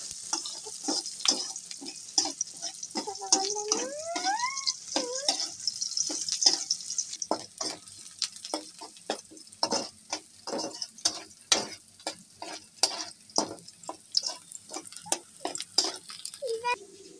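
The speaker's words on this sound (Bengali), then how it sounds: "পেঁয়াজটা নেড়ে চেড়ে বাদামি কালার করে ভেজে নেব।" Onions stir and fry in a pan for a village-style chicken dish, a steady close sizzle with frequent scraping clicks of the spoon, plus brief squeaky rising tones partway through, with no talking.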